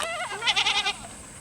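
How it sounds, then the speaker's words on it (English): Several goats bleat in a quick run of wavering, nasal calls at mid distance as they take off running down along a farm fence. "where are the goats going?"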